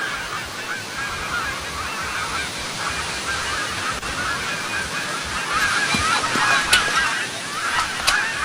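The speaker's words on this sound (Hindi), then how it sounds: "ये चिड़िया किसकी है?" A bird honks repeatedly like a goose, the calls growing louder and more frequent toward the end over a steady background hum.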